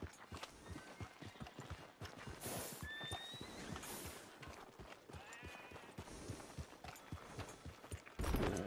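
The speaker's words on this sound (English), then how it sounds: "can't you control that damn horse?" Horses in the video game Red Dead Redemption 2 clip-clop with quick, uneven hoofbeats, and a sharp whinny rises partway through. The sounds are fairly faint and carry a little background chatter.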